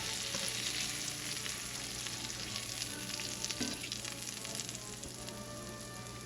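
Shrimp sizzle steadily in a frying pan, a dense, continuous crackle and hiss that holds at an even level throughout with no voices.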